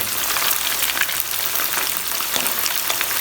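Chicken koftas fry in a preheated pan, giving a steady, loud, close sizzle with dense crackling that runs unbroken throughout, with no talking.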